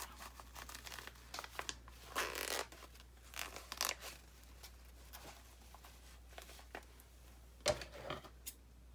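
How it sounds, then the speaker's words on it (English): Snipping and crinkling scissor cuts through paper tags come in irregular bursts, close by, with quiet pauses between them. "Scissors are noisy."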